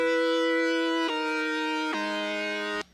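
Sustained synthesizer chords built in Ableton, bright and buzzy with rich overtones, stepping down through three held chord changes before cutting off abruptly, heard alone.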